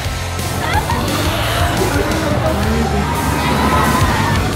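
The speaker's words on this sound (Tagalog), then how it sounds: "Ayun yung mga sigaw ng mga tao." A large crowd of park visitors screams and cheers at Universal Studios Japan. The roar is loud and dense, with no break, and shrill whoops rise above it.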